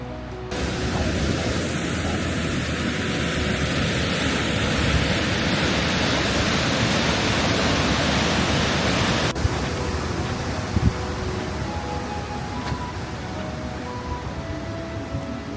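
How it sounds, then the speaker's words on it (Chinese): The Ryuzu waterfall in Okunikko gives a steady, dense roar of rushing water, loud and close and unbroken from start to finish. "龙头瀑布就在这个店家的后面。"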